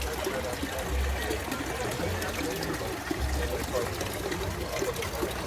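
Water trickles and burbles steadily in a theme park wishing well, a continuous close stream with people talking over it.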